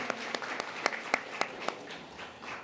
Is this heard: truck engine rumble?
no